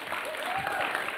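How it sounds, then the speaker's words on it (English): Audience at a school pitch competition event applauding loudly and steadily, dense clapping filling the whole moment with a light crowd murmur. "please give a big round of applause for New Jersey"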